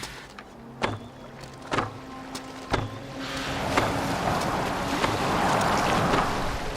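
A boat moves across water in Assassin's Creed Valhalla: a few sharp creaking knocks in the first seconds, then a swelling, continuous rush of water and wind that stays loud to the end, with no talking.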